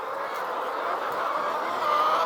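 Many layer chickens chirp and cheep together in a brooder, a dense steady chorus at moderate level with no talking.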